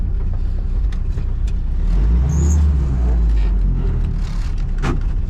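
A Willys Hotchkiss Jeep crawling through woods in low gear, its engine a loud, steady low rumble that swells briefly in the middle, with faint rustles and knocks.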